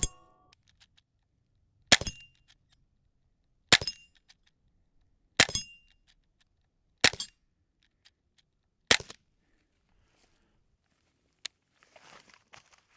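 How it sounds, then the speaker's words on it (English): A Sig Sauer M17 .177 air pistol fires pellets at targets ten yards away: five sharp, evenly spaced shots about two seconds apart, each with a quick metallic ring, then a lone faint snap and some rustling. "we're going to put about 3 or 5 rounds downrange, see if we hit those targets there"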